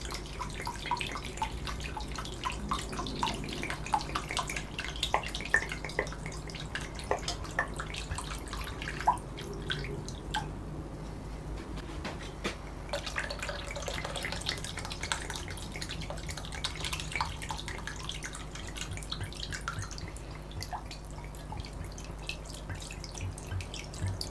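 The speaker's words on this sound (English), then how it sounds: "I'm going to be adding just enough cold water to cover the chicken." Cold tap water runs steadily into a Dutch oven over raw chicken pieces, a continuous close splashing and trickling stream with drip-like spatters, no talk over it.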